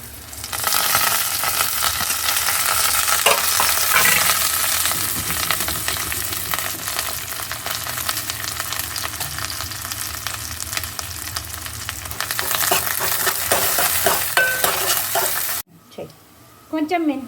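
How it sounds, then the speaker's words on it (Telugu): Tempering spices including cumin, green chilli, onion and curry leaves sizzle loudly in hot oil with steady stirring scrapes. Just before the end the frying drops away and a brief voice follows. "పోపులు వేసుకోవాలి. పోపులు వేస్తాను."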